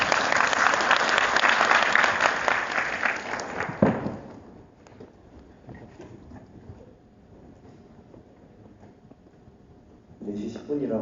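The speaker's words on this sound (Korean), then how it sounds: "박수." Broadband applause from a class audience fills the first few seconds, then fades out, leaving quieter background sounds and faint talk.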